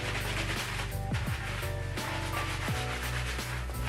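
Hands work slick Aunt Jackie's shampoo into wet curly hair, making a close, continuous squishy rubbing with a repeated back-and-forth rhythm. No one speaks.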